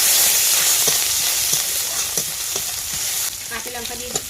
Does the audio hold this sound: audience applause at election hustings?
no